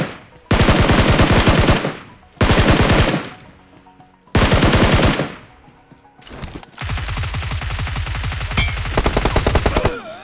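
Bursts of rapid automatic gunfire in PUBG Mobile, three short volleys followed by a longer sustained stream of shots, loud and close.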